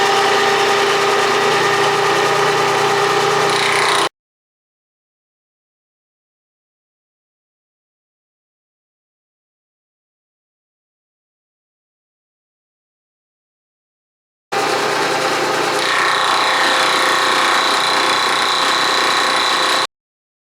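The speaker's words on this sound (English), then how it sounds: "I'm going to mill it down close to the layout line on both sides" Milling machine cutting a steel dovetail, a steady whirring machining drone in two stretches of about four and five seconds separated by a long silent gap.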